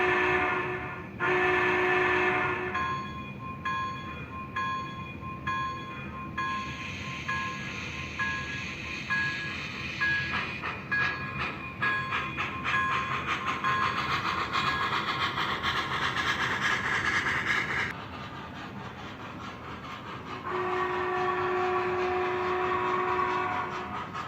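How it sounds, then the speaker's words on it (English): An MTH HO scale Big Boy 4013 model steam locomotive runs around its track, giving a steady close mechanical whir with rhythmic clicking and chuffing, fading briefly and then returning as it circles. "we're going to let this engine run, and we're going to watch it as it goes"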